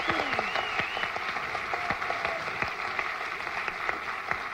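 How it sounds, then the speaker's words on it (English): A studio audience at a Card Sharks game show gives a lively, continuous round of applause with dense clapping throughout. "Give them a nice round of applause."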